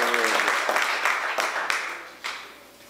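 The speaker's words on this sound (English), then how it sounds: "we're going to clap now" Applause at a state bill-signing ceremony for palliative care: a room of people clapping together for a few seconds, the sharp claps thinning out and fading toward the end.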